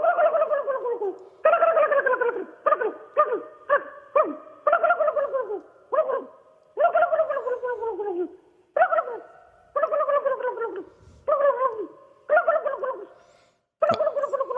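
A person's voice imitates a wild turkey gobble: a dozen or so loud, rapid bursts of warbling, descending notes in an uneven rhythm, close and alone.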